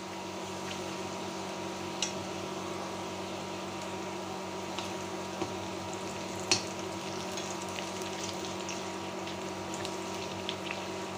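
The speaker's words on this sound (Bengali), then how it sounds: "দিয়েছি তেল, দিয়ে দিয়েছি পেঁয়াজ গোল্ডেন ব্রাউন করে ভেজে নিলাম।" Onions frying in oil in a wok, a steady close sizzle and bubbling hiss throughout with a few faint clicks and scrapes scattered over it.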